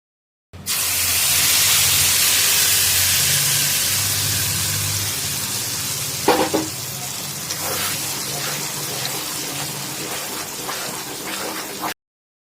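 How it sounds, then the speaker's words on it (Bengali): Ground chana dal is dropped into hot oil and sizzles with a loud spitting hiss that slowly fades, followed by a few clinks of a bowl, with no one talking. "তেলটা যেহেতু গরম ছিল এবং ছোলার ডালটা দিয়ে দেওয়ার পরেই"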